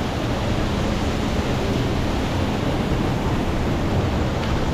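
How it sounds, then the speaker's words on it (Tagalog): Waterfall at a spring, a constant broad rushing roar of falling water that fills the whole stretch evenly and close, with no voices over it. "meron siyang talon"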